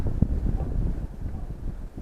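Strong stormy wind buffets the microphone beside water during a carp fishing trip in heavy rain, a steady low roaring rumble that fills the whole clip with gusty swells.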